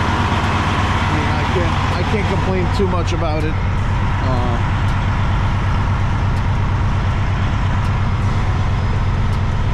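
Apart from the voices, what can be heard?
Freightliner Columbia day cab truck engine idling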